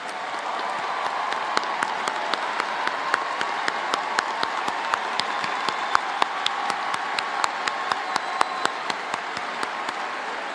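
A large graduation audience at Cy-Fair High School applauds the parents and guardians of the graduating seniors, a steady, dense wash of clapping with sharper individual claps standing out throughout, sustained and without speech.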